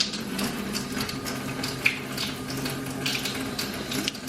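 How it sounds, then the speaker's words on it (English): Water pours into a pan of leftover taco meat being reheated, a steady close trickle and splash running throughout with no talk. "I usually add a little bit of water to it too."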